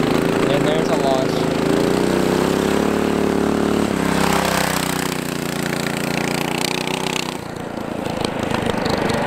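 A 420cc yard kart engine roars loudly and steadily as the kart launches, with a brief dip around the middle before the engine note carries on, then drops off near the end.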